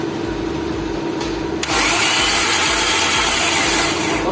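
A Perodua Myvi engine after a general overhaul, with a broken crankshaft, runs as a steady close mechanical drone that jumps noticeably louder partway through and then holds.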